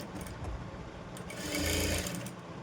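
A sewing machine stitches soft blouse fabric with a steady, close mechanical whir that swells louder midway through, then eases back. No voices are heard.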